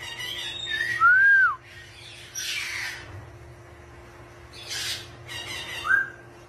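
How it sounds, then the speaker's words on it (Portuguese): Birds give a loud curving whistle, then a few squawking bursts and a second rising whistle, all near and clear over a quiet steady hum, with no talking. "Ah, os pássaros, olha."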